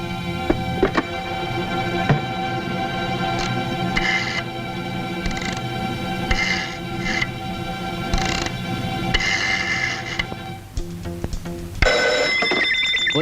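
A telephone rings repeatedly in a police control room, its bell-like trills sounding in regular bursts over a steady background hum, close and clear, with no talking.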